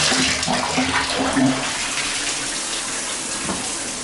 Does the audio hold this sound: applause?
no